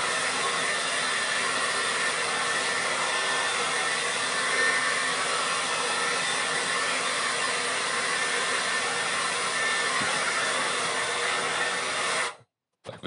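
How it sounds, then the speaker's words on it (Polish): Hair dryer blowing steadily to dry washed parts of a Harman Kardon PM-645Vxi amplifier after rinsing in warm water, a continuous loud whir that cuts off abruptly near the end. "Teraz suszarka i suszymy."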